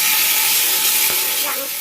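Sardines with green papaya sautéing in a hot pan give a loud, close, continuous sizzle and hiss, steady throughout the short stretch.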